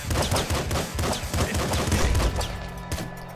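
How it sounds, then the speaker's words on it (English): Rapid pop gun fire from the top-down shooter Nuclear Throne, a dense stream of sharp, punchy shots and impacts layered with game effects, continuous and loud throughout. "Pop gun."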